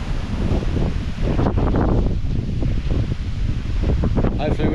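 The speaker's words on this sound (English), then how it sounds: "Getting pretty windy now, bands of rain." Strong cyclone wind from Cyclone Kirrily roars and buffets close by in heavy gusts, a dense rushing noise with rustling and bursts of rain bands mixed in.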